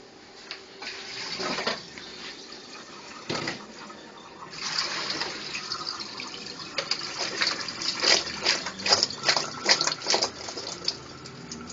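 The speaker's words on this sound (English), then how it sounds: "I'm going to drain these because I don't need all this water." Water from a pot of boiled food for sancocho soup pours and splashes into a sink in uneven bursts, growing louder and more turbulent toward the end, with no talking.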